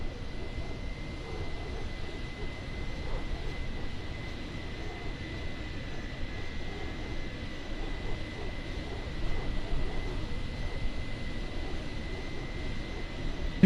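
Steady broadband roar of an airplane engine near an airport, continuous and fairly even, with a thin sustained whine running through it and no talking.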